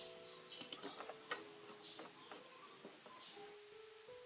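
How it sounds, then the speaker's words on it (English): Light, irregular taps on a computer keyboard as dates are entered, quiet and close with short pauses between small bursts of keystrokes, no voices. "Similarly, we type the period for validation period"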